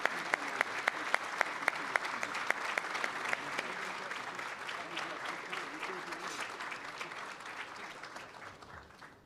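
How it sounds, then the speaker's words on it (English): Diners at a 2013 conference dinner applaud: a few sharp, separate claps open into broad, steady applause from a large room, fading slightly toward the end. "Give them a round of applause"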